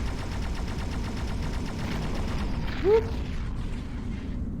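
Plasma laser pulses and missiles in the VR space shooter Endspace: a rapid, even train of faint pulsed zaps, then one brief sharp swooping burst near the end, with a short voiced exclamation.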